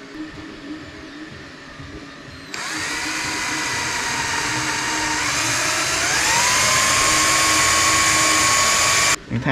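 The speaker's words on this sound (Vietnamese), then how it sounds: "mình sẽ mở cái phía bên kia và mình sẽ khoan một cái lỗ" A power drill bores a hole through a vintage CD player speaker cabinet, starting abruptly and running loud and steady for several seconds, its whine climbing in pitch as the bit cuts in, then stopping sharply.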